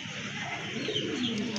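A large domestic pigeon coos softly and nearby in a few low, rolling notes, heard alone over faint background hiss.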